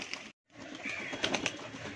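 Domestic pigeons at a home loft in Mumbai coo softly and continuously, close by, with a brief silent gap early on and a few faint flutters in the background.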